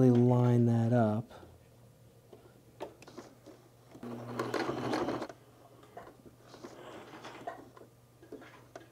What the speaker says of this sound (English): as you stitch back over the stitches that you already created, you want to land in the exact same hole